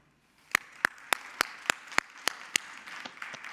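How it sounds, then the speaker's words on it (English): An audience claps in a room at the Breakers, a run of about nine distinct, fairly near claps in a steady rhythm over a soft bed of wider applause. "I hope you can hear the applause in this room at the Breakers"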